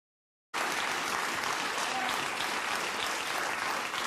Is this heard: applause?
yes